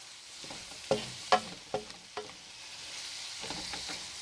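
Tomato cooking with smoked chicken and onions, stirred in a pan: a few sharp spoon knocks and scrapes over a quiet, steady sizzle.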